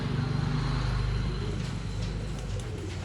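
Pigeons at a pigeon shop in Bangalore coo in soft, repeated throaty bursts close by, with a faint background hum of traffic.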